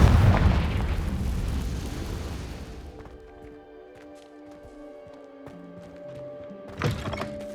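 A loud, booming fiery blast from the Confringo spell in Hogwarts Legacy fills the opening seconds, then fades into a quiet rumbling tail with a small thump near the end.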